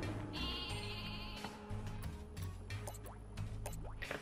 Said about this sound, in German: Das ist wieder ein blöder goldener Schaf.